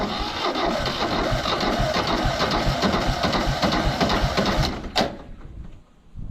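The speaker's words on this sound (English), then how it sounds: "Let's check out this cold start on this 5020 Allis-Chalmers" An Allis-Chalmers 5020 tractor engine cold-starting, a loud, close, steady diesel chatter that runs rough and even, then cuts out abruptly near the end.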